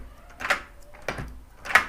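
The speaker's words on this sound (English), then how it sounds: "Let me close the door" A door fitted with a Wyze smart lock and deadbolt closes, giving a few short knocks and rattles spread over a couple of seconds, close and clear, with no speech.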